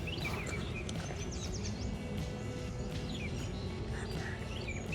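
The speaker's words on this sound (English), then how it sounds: "you can hear all the bird sounds." Birds sing outdoors in a steady scatter of faint, high chirps and short trills over a constant low rumble, with no talking.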